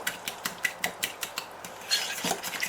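Four teaspoons of minced garlic being mixed briskly in a bowl for chicken and vegetable soup, with a steady, rapid rhythm of close scraping clicks that grows busier toward the end, no talking.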